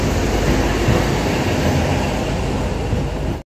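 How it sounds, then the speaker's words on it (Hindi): A CNG-powered DEMU train running, heard from inside an empty general coach: a loud, continuous rumbling roar of wheels and motion that holds steady before cutting off abruptly. "इतनी पुरानी लगती है डेमू ट्रेन से, CNG वाली डेमू है ये।"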